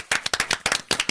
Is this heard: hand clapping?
yes